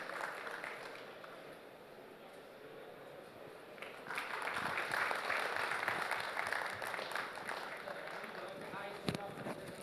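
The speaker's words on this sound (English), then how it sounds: "Can we have a big cheer for Pradeep ji?" Applause from an audience at the Poultry Federation of India's annual general meeting, with a steady wash of clapping that swells midway, heard faintly in a large hall.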